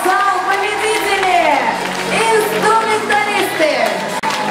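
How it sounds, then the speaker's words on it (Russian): Lively applause and cheering from the audience in a hall at a children's talent awards ceremony, steady clapping continuing under a loud announcer's voice. "А теперь, дорогой зал, бурные аплодисменты."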